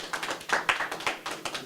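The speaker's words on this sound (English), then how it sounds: "let's give her another round of applause." Sparse applause from a small audience, scattered individual claps in an uneven rhythm, fairly faint and close.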